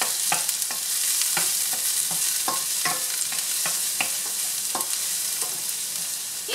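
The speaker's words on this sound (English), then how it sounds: "I'm going to saute this until it's almost golden brown." Garlic sautéing in a hot pan, a constant bright sizzle with regular light scraping clicks of a utensil stirring, close and steady with no voices.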